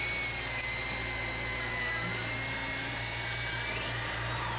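A power drill bores holes in wooden deck planks during park construction, giving a continuous loud, close motor whine that drops off abruptly at the end.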